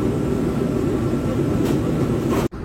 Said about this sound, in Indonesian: kereta api berantas tiba di stasiun Kertosono